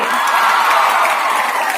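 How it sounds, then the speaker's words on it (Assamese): A college crowd in Jorhat gives loud, continuous applause at a film promotion event. The clapping blends with a general crowd roar and stays steady for the whole short stretch. "তোমালোকৰ নিজৰ কাৰণে এটা জোৰদাৰ হাত চাপৰি"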